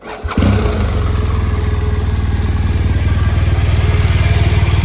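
A 2017 BMW R1200 GSA boxer twin motorcycle engine cranks and catches, then settles into a steady, throbbing idle with a low, even pulse, close and loud.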